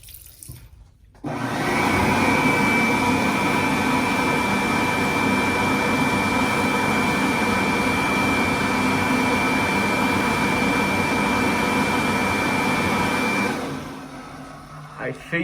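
An old brown Bobrick AirCraft B-751 hand dryer in a library restroom starts up and runs as a steady loud roaring blower with a faint whine, then winds down near the end.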